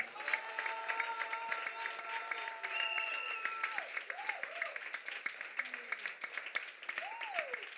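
A church congregation applauds with steady, moderately distant clapping, while voices sing and call out over the top.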